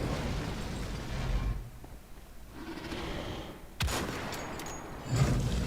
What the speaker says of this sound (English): my strategy is shoot him with the sniper rifle